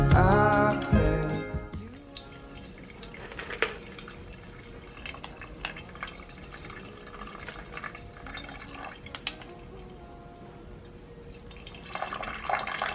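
A small garden waterfall trickles over rocks on a patio, a steady close splashing and dripping that runs throughout, with brief louder shifts as the flow changes.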